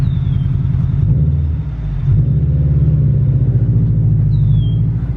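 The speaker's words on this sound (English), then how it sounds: "Get in the WRX and roll." Subaru WRX engine gives a loud, deep, steady rumble up close, with a slight dip in the middle before it resumes.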